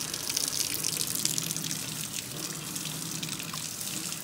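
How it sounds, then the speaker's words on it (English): Tap water runs steadily while red dye is rinsed out of a synthetic wig in a sink, a continuous close gush and splash with no talking. "So as you can see, the dye is washing off when I try to rinse it."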